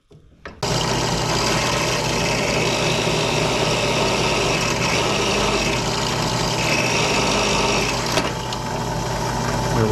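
A steady, loud motor whine runs almost without a break after a short start, a power drill with a half-inch Forstner bit boring a shallow hole into mahogany, then shifts briefly near the end.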